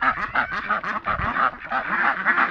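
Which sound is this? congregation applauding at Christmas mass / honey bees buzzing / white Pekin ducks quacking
white Pekin ducks quacking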